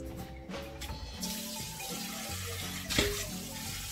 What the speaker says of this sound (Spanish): Le vamos a poner más agua para que cubra toda la gallina y también sal.